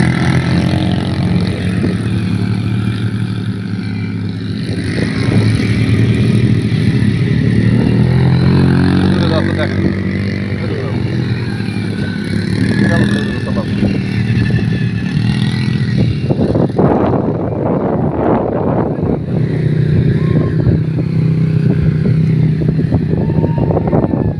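Motorcycles racing in a competition in Malaysia, engines droning and revving loudly and continuously throughout, with someone talking over them and a rise in engine noise near the end.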